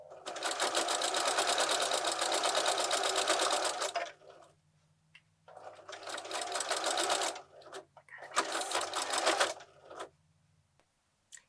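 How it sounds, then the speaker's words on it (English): A sewing machine stitches along the edge of a quilted place mat in three runs, a long steady whirring burst, then two shorter ones with brief pauses between them, close and loud. "And we're just stitching along the edge."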